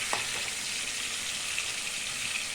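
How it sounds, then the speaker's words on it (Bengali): Eggs for an egg curry fry in a pan, giving a steady, even hiss of sizzling oil with a faint tap near the start, close by and without talk. "এবার ভাজা পর্ব শুরু হয়েছে"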